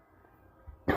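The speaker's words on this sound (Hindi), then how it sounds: "अभी खांसी ठीक नहीं हुई है" A single short cough bursts out near the end after quiet room noise, close and fairly loud.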